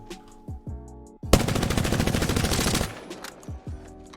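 Prowler submachine gun in Apex Legends fires one sustained, loud burst lasting about a second and a half, with faint mechanical clicks and handling noises before and after.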